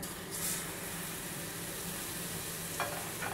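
A crêpe cooks in a pan, giving a steady, even sizzle of frying batter that holds at moderate level throughout with no voices over it.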